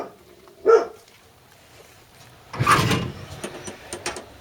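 A dog barks on a farm beside a 1957 Chevy farm truck with a roughly 10-foot bed, giving one short bark early, then a louder, longer burst of barking and chatter that trails off into smaller yips.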